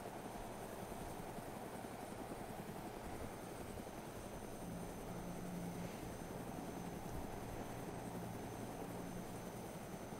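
Helicopter engine idling in the survival video game DayZ Epoch, a continuous dense rotor and turbine drone holding steady throughout with no talk over it.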